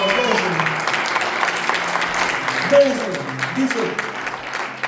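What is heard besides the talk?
congregation applause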